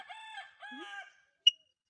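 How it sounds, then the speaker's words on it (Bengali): A rooster crowing outside, two clear drawn-out calls in quick succession followed by a short sharp chirp, moderately distant in an otherwise quiet setting. "ওই যে বাইরে পাখির আওয়াজ পাচ্ছে"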